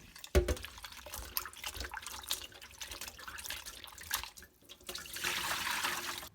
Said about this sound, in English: I'm going to rinse it. Rinse it a couple of times.